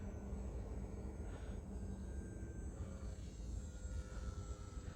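An MXS-C RC model airplane running on a 3S battery buzzes overhead at a distance, its electric motor and propeller drone rising and falling steadily as it flies.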